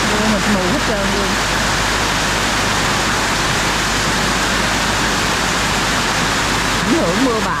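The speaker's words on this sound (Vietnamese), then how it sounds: "Bây giờ như ngày nay lại mưa nữa." Heavy rain pours down hard during a storm, a loud, dense, unbroken roar of water with flooding runoff that cannot drain fast enough.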